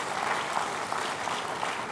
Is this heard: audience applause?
yes